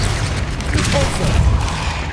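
A Repulso spell blast in Hogwarts Legacy lands as a heavy, booming low rumble amid dense combat noise, loud and sustained across the whole moment.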